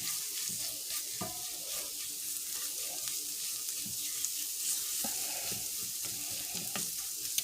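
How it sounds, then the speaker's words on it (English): Jackfruit pulled-pork filling for stuffed plantain cups simmers down in a pan with a steady, close sizzle, broken by occasional stirring clatter and a brief watery splash. "So I'm going to let this cook down a little more."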